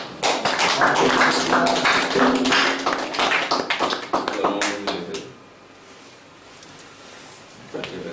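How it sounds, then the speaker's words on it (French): Congregation at a French-language church service clapping in acclamation to God, a dense burst of hand claps for about five seconds that then drops away to quiet room tone with faint voices. "Acclamation pour Dieu."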